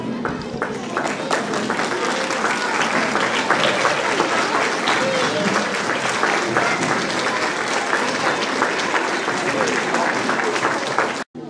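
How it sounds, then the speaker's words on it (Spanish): A school assembly audience gives steady, respectful applause as ceremonial flags are retired at a Teachers' Day event, continuous dense clapping that holds level and cuts off abruptly at the end. "Acompañamos con un respetuoso aplauso el retiro de las banderas de ceremonia de la escuela"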